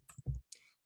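A few quiet computer mouse clicks, close and dry, two or three short taps spread across under a second with no talk.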